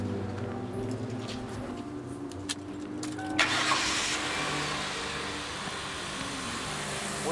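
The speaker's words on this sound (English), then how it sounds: "Why don't you start it up for me?" A car engine cranks over a low idle and catches around the midpoint. It settles into a steady running rumble at close range, with no talk.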